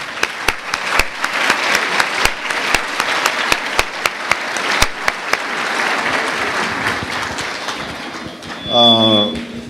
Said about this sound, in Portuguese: A equipe vai dar uma salva de palmas então.